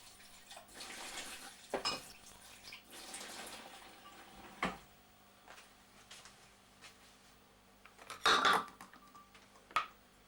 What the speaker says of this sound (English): Just give them a rinse under the sink.